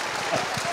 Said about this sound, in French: Applaudissez-la bien.